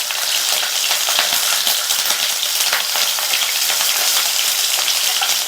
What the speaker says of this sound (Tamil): இதை இதுல சேர்த்துட்டு இந்த எண்ணெயில ஒரு 2 நிமிஷத்துக்கு ஃப்ரை பண்ணிக்கலாம்